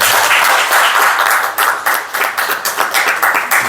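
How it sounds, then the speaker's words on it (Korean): Audience in a church Sunday service claps in welcome of two students, a brief burst that settles into loose rhythmic clapping. "우리 그 2명의 남학생들이 왔는데 우리 환영의 박수 한번 할까요?"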